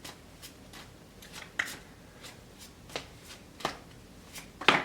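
Tarot cards being shuffled, giving a series of soft papery riffles and slaps at irregular intervals, close up and fairly quiet, with a sharper riffle near the end.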